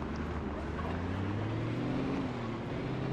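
Loud car engine idling in the video game Project Zomboid, a steady low drone with a slowly rising hum, continuous and close throughout with no talk.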